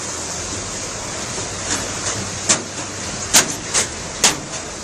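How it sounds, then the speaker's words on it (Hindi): Rain-fed mountain runoff pours across a road near the Baskuna river in Bageshwar and drops into a roadside drain: a steady broadband rush of flowing water, with a few brief splashy bursts toward the end. "देखिए कैसे सड़क से होकर झरना नीचे नाले में गिर रहा है।"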